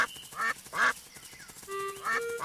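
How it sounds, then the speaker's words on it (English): Ducks from a Peppa Pig game quack in short, loud bursts, several distinct calls spaced apart with faint cartoon background sounds between them. "Ducks! What are you doing here? Are you hungry too?"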